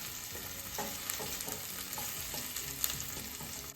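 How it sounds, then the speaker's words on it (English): Shallots sautéing over medium heat in a pan while being stirred, a steady sizzle broken by soft, irregular scrapes and clicks of the utensil, close and continuous with no talking. "Just a couple of minutes with the shallots. Watch you don't burn them."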